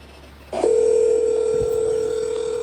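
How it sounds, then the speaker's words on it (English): A steady telephone ring tone sounds on a recorded police dispatch call, starting abruptly after a moment of line hiss and holding one continuous pitch, loud and close. "And you hear the phone ringing"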